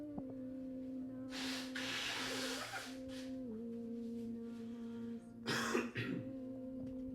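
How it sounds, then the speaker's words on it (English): Two bursts of noisy, breathy blowing, like someone clearing their nose into a tissue, over a steady low electrical hum. "I quickly blow my nose."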